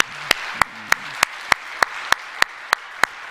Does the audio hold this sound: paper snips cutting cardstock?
no